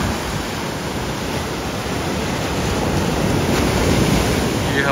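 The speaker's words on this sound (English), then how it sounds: "This is Patnem Beach." Surf at Patnem Beach in Goa makes a continuous loud wash of breaking waves, mixed with gusty wind buffeting close by, with no voices.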